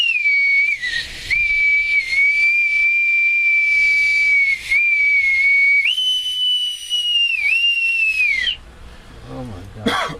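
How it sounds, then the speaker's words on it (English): Bosun's whistle piped in long sustained shrill notes, holding steady pitches with brief dips and one higher stretch, loud and close, ending with a short burst of other noise. "the Reverend Dr. William J. Eisenman, with an authentic bosun's whistle."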